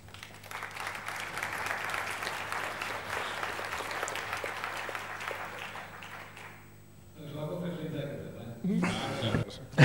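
Audience applause at a science debate event, a sustained round of clapping lasting several seconds before fading, followed by a voice speaking.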